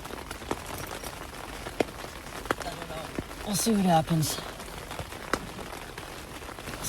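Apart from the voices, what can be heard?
rain falling on a tent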